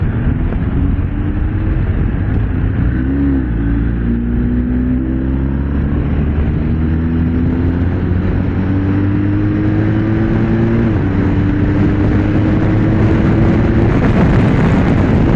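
Boxer engine of a 2024 BMW R 1250 RT motorcycle drones steadily under wind roar while riding, pitch climbing and stepping through gear shifts, loud and close throughout.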